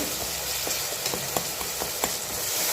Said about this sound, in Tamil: தக்காளி நல்லா குலைவாக வதங்கி வந்துருச்சு